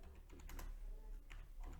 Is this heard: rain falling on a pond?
no